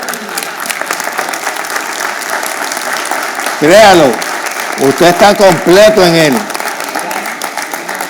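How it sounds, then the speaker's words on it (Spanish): Church congregation applauding during a Spanish-language sermon, short loud bursts of clapping breaking between the preacher's lines, with speech running through much of the stretch. "Dale un aplauso a Jesús en esta mañana."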